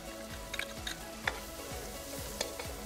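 Finely chopped onion fries with garlic in a pan, giving a soft, steady background sizzle with a few light stirring clicks, quiet and close.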